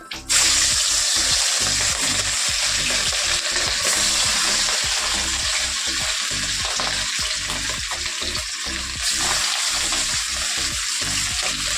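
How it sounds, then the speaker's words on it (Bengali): Steady, loud sizzling of fish frying in hot oil, continuous throughout with faint clatter of stirring underneath. "ওখানে মাছটা ভাজা বসিয়ে দেবো"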